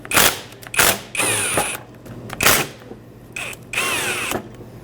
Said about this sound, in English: use a 14mm to remove the 2 bolts holding the caliper onto the bracket